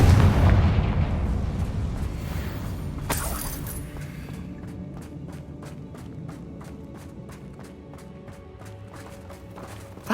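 A Confringo fire-blast spell explodes in Hogwarts Legacy with a loud burst at the start, another bright crack near three seconds, then a rumbling tail under faint rhythmic ticking.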